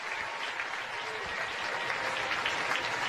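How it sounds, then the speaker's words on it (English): Cardinals baseball fans at PNC Park applaud for Yadier Molina, a steady wash of clapping and crowd noise from the stands, heard at a distance and moderately loud throughout. "The applause for Yadier Molina by the Cardinal fans here at PNC Park and Cardinal fans everywhere."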